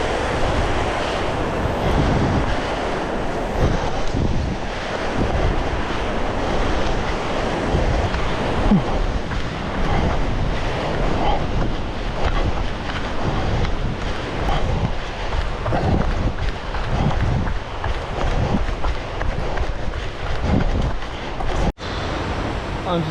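The Sabine River West Branch in Nelson Lakes National Park rushing steadily beside the listener, a loud, continuous broadband wash with wind buffeting the microphone.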